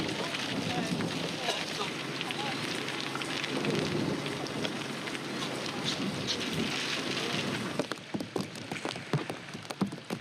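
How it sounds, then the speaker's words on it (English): Steady, dense rain pours over an outdoor film set during a storm, a loud continuous hiss that thins into scattered patters near the end, with possible distant thunder. "Oh God, it's raining."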